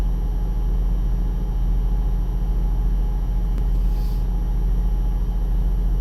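Truck cab interior while driving on a California highway, a constant low engine rumble and road drone filling the space, steady and loud with no voices.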